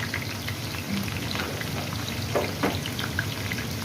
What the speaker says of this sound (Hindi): तेल गरम हो जाए तो उसमें डालेंगे प्याज। जो आपने स्लाइसिस करा था